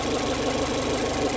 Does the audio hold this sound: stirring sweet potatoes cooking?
no